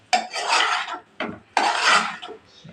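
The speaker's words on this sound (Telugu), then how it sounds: "పాస్తా కొంచెం సిమ్లో పెట్టి మూత పెట్టు." A lid set onto a pot of pasta left simmering on low heat, giving two sharp metallic clatters close by, each ringing briefly, then a softer scrape at the end.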